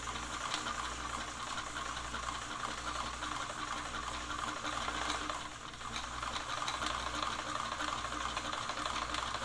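A Brother free arm sewing machine stitching a short zigzag, a steady close mechanical whirr with fine rapid needle ticking throughout, no voices.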